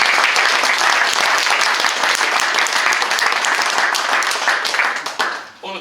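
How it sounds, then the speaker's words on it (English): A crowd at an end-of-season GT final event applauds, a loud dense burst of clapping that holds steady for several seconds before tapering off at the end. "I think you all deserve a big round of applause"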